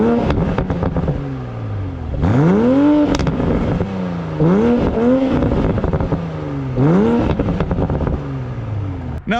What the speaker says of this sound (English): you put it into sport mode, it moves and the sounds that this exhaust makes are fantastic